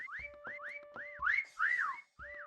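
Rising and falling whistle tones from the Meccha Chameleon video game repeat in a steady rhythm, loud and close, with a few brighter swoops in the middle and no talking.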